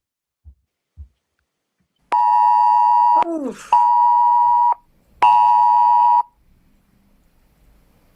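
UK government emergency alert tone sounding from a mobile phone indoors, three loud steady blaring bursts separated by short gaps, preceded by faint taps and a brief exclamation from a person.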